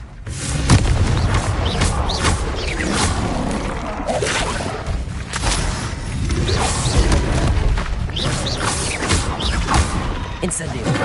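Booming blasts of the Confringo explosive spell go off in a video game, heavy thuds and crashes in a dense, loud, continuous barrage with a voice talking over them.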